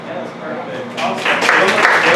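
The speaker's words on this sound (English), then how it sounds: "a round of applause" An audience claps after a short speech. The applause swells from a modest start into fuller clapping, with a voice speaking over it.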